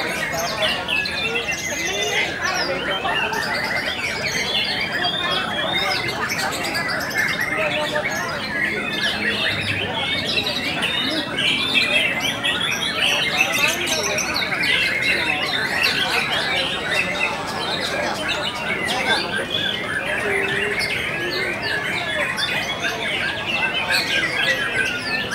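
Many magpie robins at a songbird competition chirp and squawk in a dense, busy chorus that runs unbroken and fairly loud, with people talking in the background.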